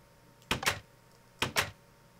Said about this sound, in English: I heard a door open.